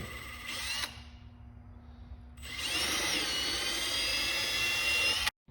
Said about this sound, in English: using a 1/2 inch drill bit, you want to drill a hole through the floor mat where the lines intersected